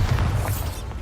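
Bombarda explosion spell cast in Hogwarts Legacy, a deep booming blast with rumbling low end that holds steady through a busy, loud game-combat mix.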